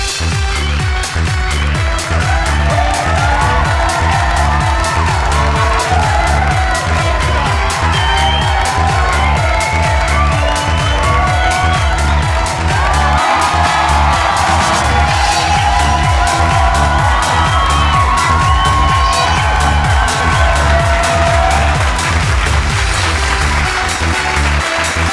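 A large crowd applauds and cheers for the finalists of a South Asian spelling bee, with dense, steady clapping and scattered whoops going on loudly and continuously throughout.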